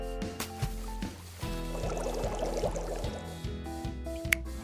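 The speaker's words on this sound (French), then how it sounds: "Verse l'eau dans un bac à glaçons et mets-le au congèle." Water pours into an ice cube tray in a short gurgling trickle, moderately loud and close, over a humming musical background with a click near the end.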